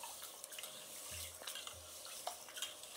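Soaked lentils being washed in water, soft close swishing and sloshing with light splashes, quiet and without voices.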